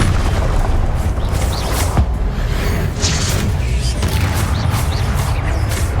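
Rapid Confringo blasting spells in the Hogwarts Legacy video game burst one after another as loud, dense, booming explosions with crackling debris, forming a continuous barrage of magical combat noise with no talking.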